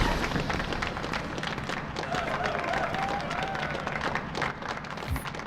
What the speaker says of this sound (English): if you didn't get out of the lift, they just keep cheering